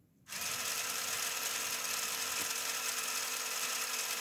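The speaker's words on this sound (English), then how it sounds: "So that's the engine going" A Lego Technic model engine runs with a steady, dense mechanical whir and fine ratcheting clatter of gears that starts abruptly and holds at an even level.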